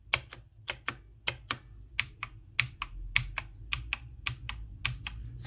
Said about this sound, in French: Voilà, c'est un clavier mécanique.